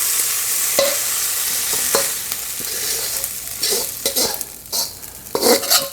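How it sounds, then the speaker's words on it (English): Pork fried rice scooped from a hot pan onto a plate, a loud hissing sizzle with sharp spatula scrapes and clinks against the pan, growing busier toward the end, no voices. "let's plate this beautiful pork fried rice"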